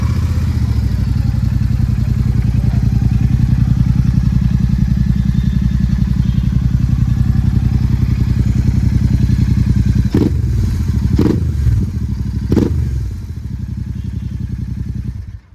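A Royal Enfield Super Meteor 390 motorcycle, loaded for adventure touring, idles steadily and close with a deep thumping exhaust note, three sharp blips of the throttle rising out of it near the end.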